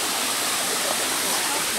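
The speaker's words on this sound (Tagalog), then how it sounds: "Another waterfalls." Ng Tung Chai waterfall in Hong Kong pours in a steady, dense roar of falling water that fills the whole stretch without letup.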